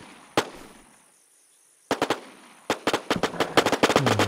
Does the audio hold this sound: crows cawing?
no